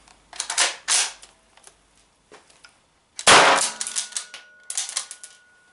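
Sharp metallic reports ring out, then one louder bang from a GSG MP 40 9mm PAK blank-firing submachine gun stands apart from the lighter clicks and clanks of handling around it; it fires only one shot.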